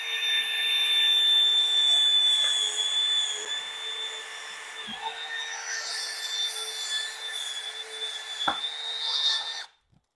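A power drill bores drainage holes through a bonsai pot while repotting a Ficus benghalensis, giving a steady, fairly loud motor whine that runs for about ten seconds before cutting off abruptly.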